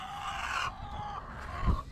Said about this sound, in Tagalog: papasilip ko muna sa inyo yung mga manok dito